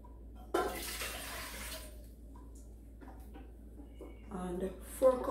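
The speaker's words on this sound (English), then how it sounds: "We're going to add 4 cups of water" Water pours into a cooking pot for Jamaican cornmeal pudding in a close, rushing splash lasting about a second, followed by quieter handling sounds and a voice near the end.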